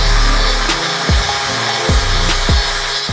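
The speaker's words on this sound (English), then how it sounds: "Now we have to bevel both pieces so that the weld has maximum penetration." A grinder bevels the edges of metal axle pieces for a drift truck before welding, loud and close, with a steady grinding whine broken by several sharp rasping strokes as the tool bites and lifts off.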